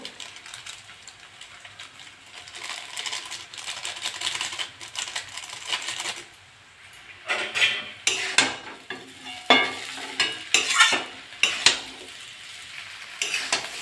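Chowmein with Maggi masala being stirred in a pan, a soft sizzle at first, then a run of sharp, rhythmic metal scrapes and clacks of the spatula against the pan, close and without talk.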